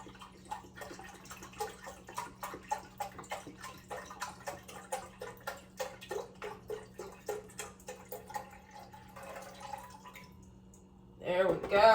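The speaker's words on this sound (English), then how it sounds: "pour this all in here because we want to make sure the chicken is kind of like submerged into the broth" Chicken broth pours into a pot of chicken in steady, splashy trickling pulses, close and moderately loud, ending in a brief louder clatter.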